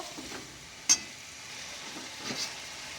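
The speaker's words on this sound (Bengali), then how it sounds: "এই যে আলু ঝিঙে পোস্তটা বসিয়ে দিয়েছি নুন হলুদ দিয়ে" Potato, ridge gourd and poppy seed curry with salt and turmeric sizzling quietly in a pan, a soft steady frying hiss with one sharp clink of a utensil and light stirring.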